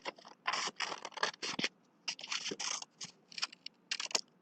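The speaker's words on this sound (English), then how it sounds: "So the first thing I'm going to do is I'm going to cut out my bigger heart." Scissors cut a larger paper heart for a Valentine's notan craft: close, crisp snipping in quick repeated bursts with short pauses between, and no talking.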